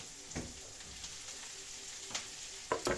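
Onion frying in a pan, a quiet, steady sizzle with a few sharp spatula taps and scrapes scattered through, the last ones near the end slightly louder.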